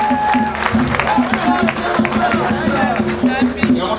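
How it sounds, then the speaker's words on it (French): Audience applause at a Congolese women's 50th anniversary gathering, dense steady clapping from a crowd with some murmuring voices mixed in throughout. "et pour ça nous allons l'applaudir"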